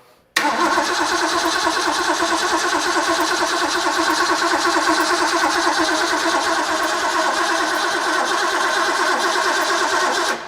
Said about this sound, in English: We'll spin her a little bit without the coil on, so no ignition.